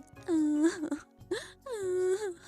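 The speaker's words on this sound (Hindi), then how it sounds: "जोर जोर से रोने की आवाज उन दोनों को सुनाई देती है।" A cartoon kite, a bird of prey, cries loudly in long wailing, moaning sobs, two drawn-out voiced wails with a short break between, close and prominent.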